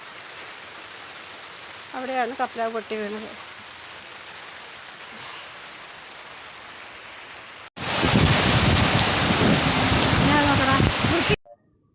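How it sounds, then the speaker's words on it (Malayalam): Loud, dense downpour roaring steadily for several seconds, following a quieter stretch with a brief spoken phrase. "മഴ വരുന്നു ഞാൻ കയറിപ്പോട്ടെ പെരുമഴ അടുത്ത മഴ ഇതാ"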